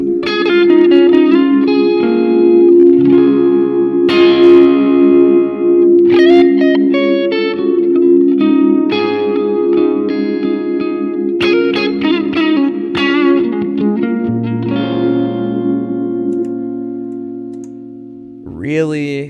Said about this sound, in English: The warp algorithm is one of my longtime favorites on this pedal.